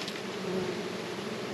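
Dwarf honey bees buzz steadily near a hive, a close, continuous droning hum with no pauses and no voices.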